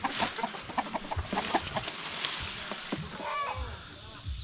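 Chickens cluck and a rooster squawks as it is chased on a provincial farm, with rapid agitated calls and scuffling close by under a steady outdoor background.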